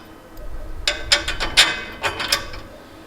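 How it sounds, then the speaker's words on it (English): Bolts are tightened on a KarooRak rack during assembly with a ratcheting tool, giving a few close, crisp clicking strokes in a short burst over faint room noise. "then tighten the bolts at the back"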